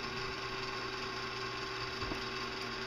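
A countertop blender mixes pizza dough with a steady, low, buzzing motor hum. It runs continuously at a faint level with no talking.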